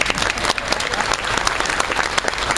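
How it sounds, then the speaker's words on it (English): An audience at a musicians' reunion applauds a young singer, loud close clapping from a full room forming a dense, continuous burst over a couple of seconds. "Give her a round of applause."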